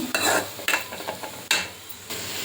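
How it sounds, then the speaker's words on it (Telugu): Onions sizzle in hot oil in a pan while a spoon stirs them, giving a steady frying hiss broken by several sharp scraping strokes at an uneven rhythm, close and fairly loud. "నూనె వేడెక్కిన తర్వాత ఆనియన్స్ వేసుకుంటున్నాను"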